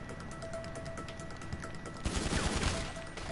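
Rapid automatic assault-rifle fire in a GTA game, a dense rattling burst that swells loud after a quieter stretch of shooting, with no voices over it.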